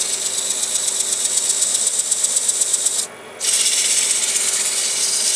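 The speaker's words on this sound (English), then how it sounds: "We're going to sand this, just like it is" Hand sanding a flat piece with 180 grit sandpaper, a steady loud rhythmic rasping scrub with a brief pause midway before resuming, no talk.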